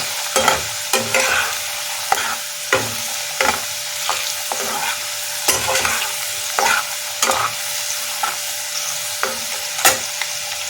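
Sliced potatoes frying in hot oil for homemade french fries, with a steady sizzle broken by frequent stirring scrapes and clinks close by, with no talking.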